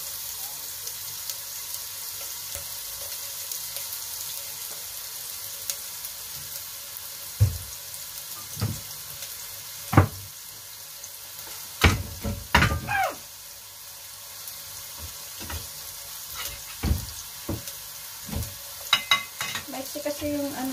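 Ginger stirred and sautéing in a pan for ginisang mongo, with steady sizzling under scattered scraping and clanking stir strokes, some louder bursts midway, close up and without talk.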